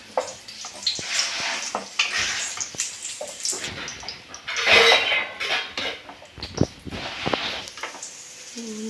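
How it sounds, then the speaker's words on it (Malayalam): Cashews and raisins roast in ghee in a pan, a soft continuous sizzle mixed with frequent spoon scrapes and light metallic clinks, close up and fairly quiet. "പാൻ എടുപ്പത്ത് നെയ്യ് രണ്ട് ടീസ്പൂൺ ഒഴിച്ച് വെച്ചിട്ടുണ്ട് അതിലേക്ക് അണ്ടിപ്പരിപ്പ് ഇട്ട് കേട്ടോ അണ്ടിപ്പരിപ്പ് മുന്തിരി ഒന്ന് റോസ്റ്റ് ചെയ്തെടുക്കാം"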